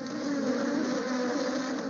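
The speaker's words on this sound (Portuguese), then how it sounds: "O zumbido dessas abelhas vem das várias colmeias que se propagaram nos últimos anos." Honeybees from many hives in a flower-rich apiary in the Brazilian sertão produce a dense, steady buzzing hum that stays even and close throughout, with no voices.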